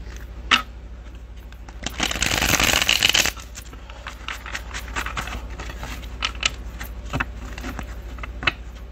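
Tarot cards being shuffled by hand, a dense burst of riffling in the middle flanked by scattered soft taps and card clicks, fairly close and quiet over a low steady hum.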